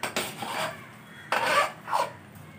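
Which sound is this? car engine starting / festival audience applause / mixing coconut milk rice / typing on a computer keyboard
mixing coconut milk rice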